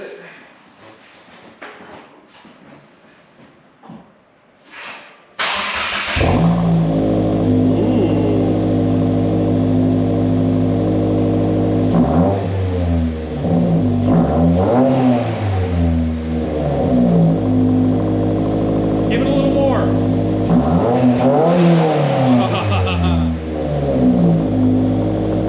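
A Subaru WRX with an MBRP Race Profile exhaust fires up after a few seconds of quiet shuffling, settling into a loud, steady idle with several sharp revs that rise and fall; speech is faintly mixed in.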